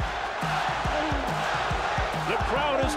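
Boxing arena crowd during Mike Tyson versus Evander Holyfield, a steady loud roar of many voices with rhythmic low thuds and some talk mixed in beneath the noise.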